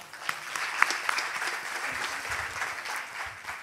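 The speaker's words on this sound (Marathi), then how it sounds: "पुन्हा एकदा जोरदार टाळ्यांचा गजर" An audience at a commemorative evening program applauds with steady, dense clapping that holds at an even level throughout, with a few sharper claps standing out near the start.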